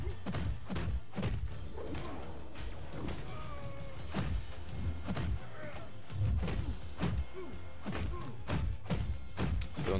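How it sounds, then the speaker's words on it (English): Spider-Gwen's melee attacks land in a video game, a rapid series of heavy thuds and cracking impacts over dense combat sound effects, with a voice talking over them. "the combined damage, hopefully, from the from Spider-Gwen's regular attacks with the L2 reversal"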